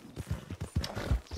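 Horse hooves clop steadily on the ground in the Western roleplay game RedM, a close, even rhythm of about six or seven thudding steps with no voices over them.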